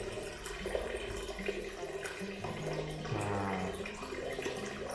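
Water is poured out of a betta fish container, a steady splashing gush that keeps running, with a man's short remark over it.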